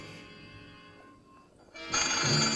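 A telephone in the 1955 film Teenage Crimewave, shown in an MST3K broadcast, bursts into a loud ring that starts suddenly near the end after a quieter stretch of background sound.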